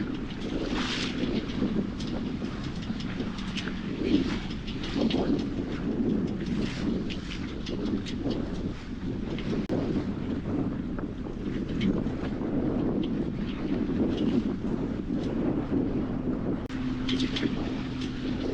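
A sailboat with jib and mainsail up runs through big waves in strong wind, steady roaring wind noise over the mic with continuous splashing and rushing water against the hull throughout.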